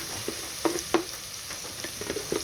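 Ginger is dropped into fish frying in a pan, giving a soft sizzle with a few light scraping and stirring clicks spread across the moment, quiet and close.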